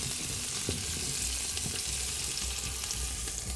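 Potato pieces cut like chips fry in hot fat with butter, a steady close sizzle and crackle running throughout with faint stirring underneath and no talking.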